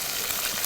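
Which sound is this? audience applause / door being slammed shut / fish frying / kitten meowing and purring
fish frying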